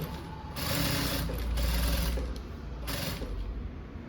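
A sewing machine runs steadily, stitching the side seam of an unlined blouse with white thread, its close whirring hum pausing briefly and resuming in short bursts.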